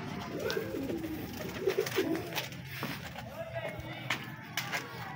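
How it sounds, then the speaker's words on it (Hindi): Pet pigeons coo softly in low throaty bursts near a feeding spot, faint against background noise with light movement sounds. "ये अपने सारे कबूतर हैं"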